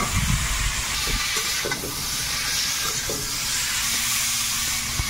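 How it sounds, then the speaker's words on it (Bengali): Fried potatoes going into a sizzling spice paste in a pan, a loud continuous hissing sizzle with a few stirring knocks and scrapes, close and steady without speech. "মশলাটা রেডি হয়ে গেছে, এবারে ভাজা আলুটা দেবো।"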